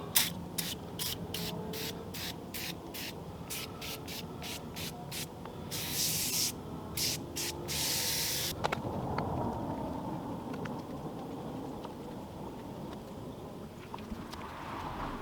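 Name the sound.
aerosol spray on car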